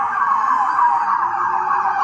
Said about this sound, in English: Emergency sirens echoed in the background as police and first responders raced to the scene